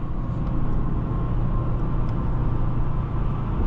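A 2024 Mercedes-AMG GLS 63 SUV on the move, heard from inside as a steady, unbroken low engine and road rumble with no voices.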